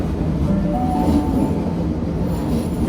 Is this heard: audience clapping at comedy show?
no